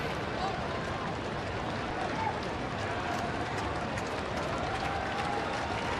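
A packed baseball stadium crowd at a Giants–Reds night game in Cincinnati roars steadily for the pitcher, a dense, continuous wash of cheering and clapping with no breaks, with a broadcaster talking over it.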